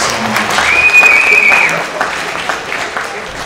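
A round of applause for Tech campus students at a high school recruiting presentation: fairly close, continuous clapping from a small crowd, with a whistle-like tone briefly above it and voices underneath.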